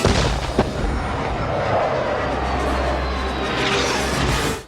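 Military explosions from a stop-motion film score, heavy booming blasts with a sharp crack at the start, then a sustained loud rumbling roar that swells again near the end.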